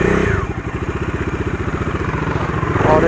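Bajaj Dominar 250 BS6 motorcycle engine idling close by, a loud, even thumping beat with a slight clatter, holding steady before rising briefly at the end.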